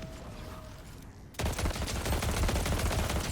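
Shotgun fire in Fortnite, a sudden close burst of rapid blasts after a quieter stretch, followed by dense, sustained crackling gunfire.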